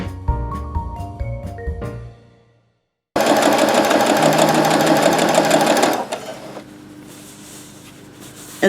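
A sewing machine sews Christmas quilt pieces together, a loud fast rattling run of about three seconds after a short stretch of music and a pause, then quieter handling noise.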